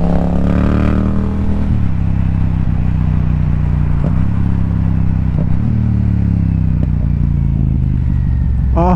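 A motorcycle engine on a cold start, idling loud and close with a steady low drone and a few brief revs rising over it, alone without talk.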